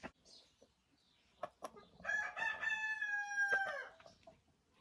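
Chickens on a small farm by a vegetable garden, a grey silkie hen among them, let out soft clucks before a rooster-like crow rises clearly in the middle, with a few sharp calls after it. No one speaks.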